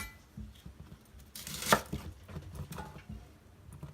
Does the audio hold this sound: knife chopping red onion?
yes